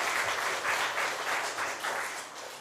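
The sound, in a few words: congregation applauding mothers in church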